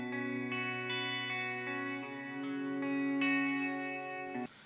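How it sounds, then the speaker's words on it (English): Sustained synth chords with a long echoing tail, repeats smeared into a wash of reverb, ending in a brief noisy burst. "Sounds like there might be a delay in there."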